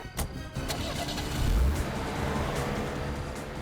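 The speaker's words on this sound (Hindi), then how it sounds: "गाड़ी तेज चलाओ" A car accelerates hard with a mid-pitched engine roar and a loud low surge about halfway through, a steady driving drone throughout with no talk.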